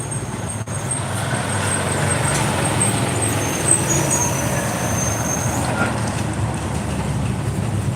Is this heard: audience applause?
no